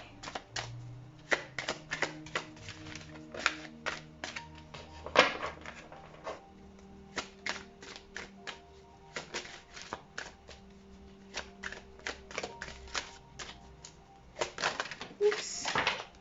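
Tarot cards being shuffled close up, a long run of crisp rapid riffles and snaps with short pauses, while a voice talks intermittently over them.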